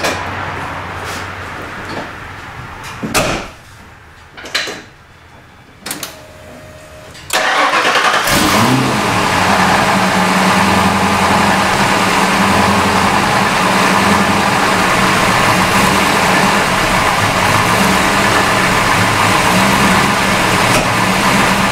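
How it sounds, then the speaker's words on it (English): A 1990 Ford Mustang GT with a new battery cranks briefly, then catches and settles into a loud, steady idle that runs on alone for around fourteen seconds after a few quiet clicks and shuffles. "Alright, let's start this thing up with the new battery."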